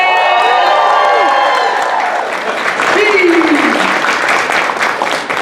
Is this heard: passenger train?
no